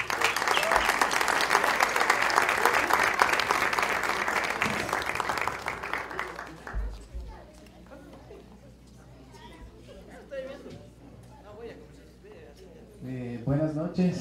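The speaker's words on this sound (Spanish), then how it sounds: "Con un fuerte aplauso, por favor." Loud applause from an audience at a tribute evening for a guitar luthier fills the first six seconds, then fades into quieter murmuring and a voice speaking as the room settles.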